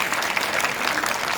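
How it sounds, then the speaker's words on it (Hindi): An audience at a school event applauds wrestler Bijender Singh, the Steel Man, with dense, loud, continuous clapping that fills the whole moment without any pause. "एक बार जोरदार तालियां"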